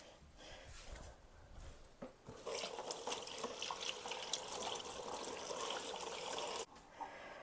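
A dish, a pie plate, rinsed under a running kitchen tap, steady water gushing and splashing into the sink for several seconds, then cutting off abruptly near the end.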